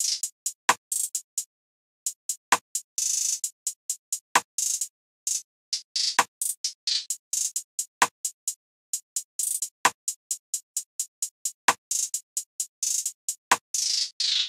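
A programmed clap pattern with a Rex rim sample from a drum kit layers quick bright ticking hits with a sharper, fuller rim-and-clap strike landing on a steady recurring beat, dry and upfront.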